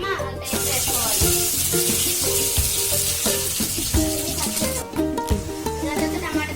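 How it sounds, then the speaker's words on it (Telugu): Onion paste frying in a pan sizzles loudly and steadily for several seconds, with a dense crackling hiss and a busy clatter of stirring and cookware running underneath. "దీని తర్వాత ఆనియన్ మిక్సీ చేసుకున్నామా అది వేసుకోవాలి."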